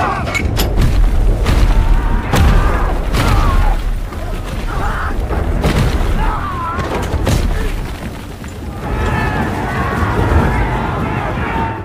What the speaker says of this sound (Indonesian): musuh menghujani mereka dengan meriam yang membabi buta